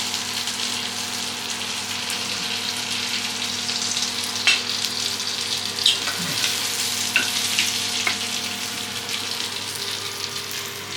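Prawns frying in a pan, a steady close sizzle with occasional clinks and stirring scrapes, no talking.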